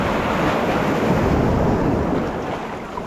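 An ocean wave breaks on a Florida beach, a loud close rushing roar of surf mixed with wind buffeting, steady for a few seconds then easing slightly.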